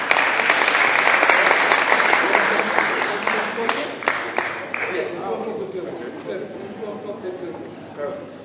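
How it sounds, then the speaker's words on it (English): Audience at an urban safety forum applauds loudly and steadily, the clapping thinning and fading toward the end with a few scattered claps and murmurs. "wave a round of applause for everybody"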